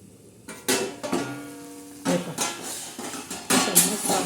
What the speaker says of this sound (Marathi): चला बरं आता आपण झाकण काढून बघूया